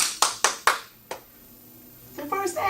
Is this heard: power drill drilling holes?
no